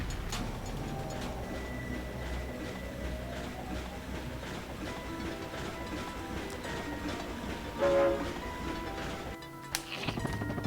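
A train in the Ratchet and Clank video game rumbles steadily with clattering, clacking detail and a louder swell near the end, with no talking.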